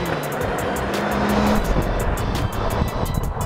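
Renault Clio 4 RS with a 1.6-litre turbo engine launching hard from a standstill under launch control, a loud steady engine roar building throughout with a faint tire noise, heard alone with no talking.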